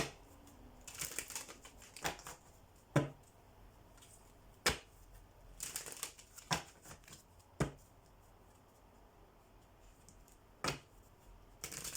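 Tarot cards are shuffled by hand in quiet, irregular riffles and sharp snaps, with short flurries broken by pauses.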